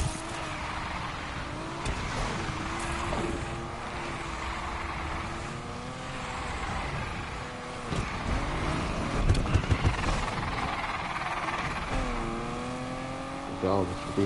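A car engine in the racing video game Need for Speed Unbound revs and drones continuously, with shifting pitch as it accelerates, and a voice talks over the steady engine noise.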